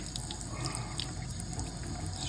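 Water running steadily from a sink tap, a close, even splashing stream that holds at constant loudness throughout.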